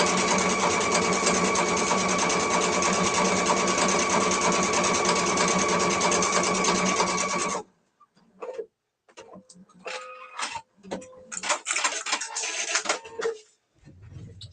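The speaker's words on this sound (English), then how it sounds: "So I just sewed" Sewing machine stitching a repeat pattern at a sew fest, a steady close mechanical whir for several seconds, then stopping and restarting in short, uneven bursts with pauses between.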